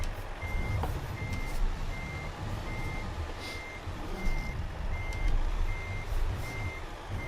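A truck reverses a trailer into a parking spot in a driving video game, its reversing alarm beeping in a steady, evenly spaced rhythm over a low engine rumble, with no talk.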